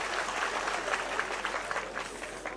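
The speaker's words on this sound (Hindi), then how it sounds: "आप सब लोग जोरदार तालियों के साथ माननीय अशोक गहलोत जी का स्वागत करें।" Crowd applause at a Samvidhan Bachao political rally in Bikaner, welcoming a senior Congress leader: dense, steady clapping from many hands that fills the whole stretch without letting up.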